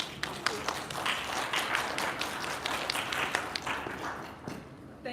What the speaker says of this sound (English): So can we give a round of applause for LIKA?